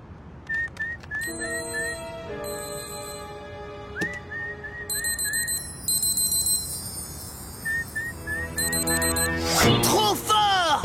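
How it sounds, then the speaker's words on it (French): Bright electronic beeps from a wristwatch that responds to whistling, with whistled tones in short repeated bursts, fairly close, and a sweeping chime near the end. "Une montre qui fait bip bip quand on la siffle!"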